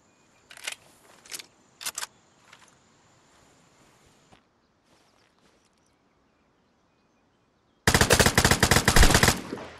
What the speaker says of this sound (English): Who are they shooting at now?